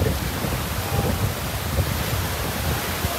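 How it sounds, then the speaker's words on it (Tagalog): Steady roar of strong surf crashing nearby at high tide on White Beach, Boracay, broad and continuous with low rumbling swells and wind noise throughout. "Grabe lakas ng alon."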